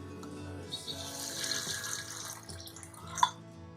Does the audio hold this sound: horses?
no